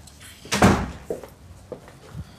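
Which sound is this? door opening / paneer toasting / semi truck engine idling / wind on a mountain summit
door opening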